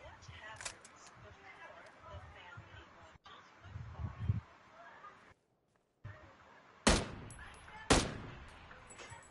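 Two sharp, loud gunshots in a team shooting match ring out near the end, with softer distant pops and quiet talk earlier amid low background noise.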